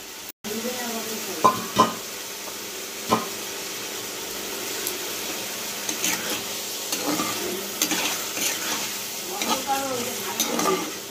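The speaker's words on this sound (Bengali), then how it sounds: "মাশরুমগুলো দিয়েও কিন্তু আমি খুব ভালোভাবে নাড়াচাড়া করতে থাকবো" Chicken pieces and mushrooms stirred in a pan of hot oil give a steady sizzle, broken by repeated scrapes and knocks of a spoon against the pan, with a voice speaking softly at times.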